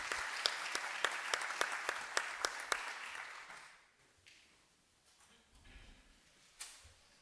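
Applause from an audience welcoming a speaker at an international law conference on registry and notarial law: a modest round of clapping with distinct sharp claps, fading out after about four seconds into quiet room noise with a few stray sounds.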